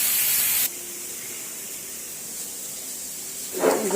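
Red amaranth greens fry in a pan. A loud hissing burst at first drops to a low, steady sizzle, then flares up again briefly at the end, all close by and without talk.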